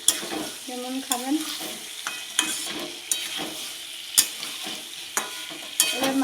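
Mutton being sautéed and stirred in a pan for a Bengali curry, with repeated sharp scrapes of a spatula against the pan over a steady background sizzle, close and fairly loud, with no talking.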